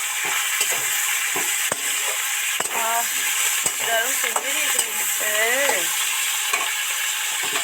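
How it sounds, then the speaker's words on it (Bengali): Fish curry made with parshe fish, with coriander leaves being stirred in a pan: a loud continuous sizzle with repeated spatula scrapes and knocks, and warbling tonal sounds in the middle. "একটু ধনে পাতা দিয়ে এর সাথে মিলে মিশিয়ে নেড়ে ফেলে দেবো"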